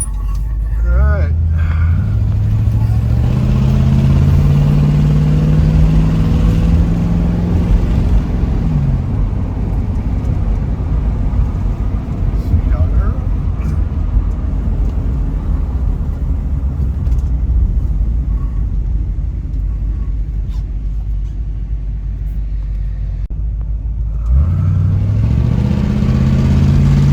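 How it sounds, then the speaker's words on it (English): A 1966 Ford Mustang with an automatic transmission drives along, its engine running steadily as a loud, continuous rumble. The pitch rises and falls through the gear changes and carries on throughout. "It's an automatic, so we're going to put it in for drive and go take a drive."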